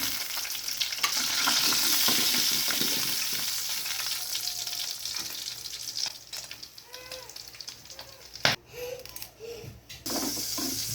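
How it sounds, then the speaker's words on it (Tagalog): Garlic frying in a pan for a Filipino fish dish, a close, steady sizzle with occasional stirring scrapes and clinks, loudest at first and then thinning out. "Ipiprito natin ang bawang."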